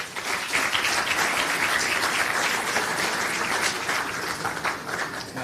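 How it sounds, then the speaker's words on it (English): A crowd applauds steadily, many hands clapping in a sustained, even wash that swells slightly and then tapers near the end. "A huge round of applause for Shri Suraj Chetri."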